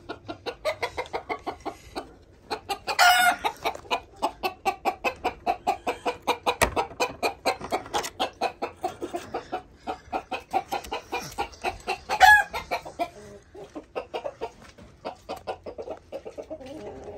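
Chickens clucking in a coop: a dense, continuous run of rapid clucks and squawks from several birds nearby, with a couple of louder cries standing out and no talk.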